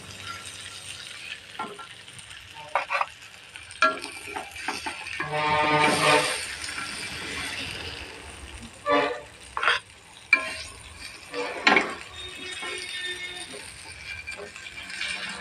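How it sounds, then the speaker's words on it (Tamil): Fish frying in a pan and being flipped, a soft sizzle broken by louder bursts of scraping and clinking as the pieces are turned, close by, with brief talk in places. "டூ டைம்ஸ் பரட்டி போட்டாச்சு இப்போ மீன் வெந்திருக்கும் பார்த்தீங்களா"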